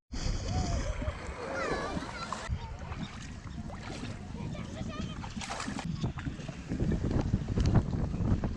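Water splashes and sloshes as an oyster is rinsed in the shallows of a national park shoreline, with wind buffeting the microphone and people talking nearby throughout.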